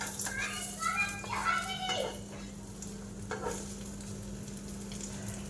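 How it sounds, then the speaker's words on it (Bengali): An egg fries in a pan with a steady, low sizzle and occasional stirring, while voices and children's chatter sound over it near the start. "আর ডিমটা ভেজে নিই"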